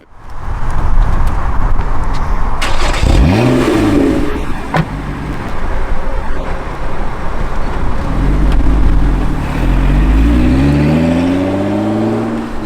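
A 2011 Lotus Evora S sports car engine revs loudly and close by, with repeated rising and falling sweeps as it accelerates and a sustained roar between the surges.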